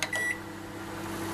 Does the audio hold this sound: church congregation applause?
no